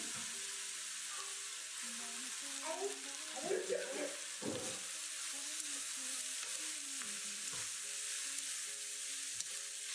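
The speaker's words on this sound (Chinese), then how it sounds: "热油，油热放花椒炸香，炸香后放芥菜丝翻炒均匀" Shredded mustard greens tossed in hot oil with Sichuan peppercorns, a steady close sizzle and frying crackle with bursts of spatula scraping and stirring around the middle, continuous throughout.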